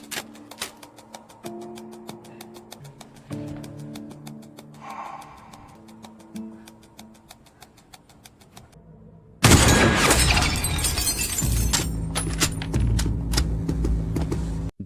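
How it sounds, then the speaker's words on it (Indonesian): A sudden loud shattering of a glass pane from a sniper shot bursts in after a stretch of quieter music, followed by a sustained spray of breaking glass and debris. "lalu menembak kaca itu"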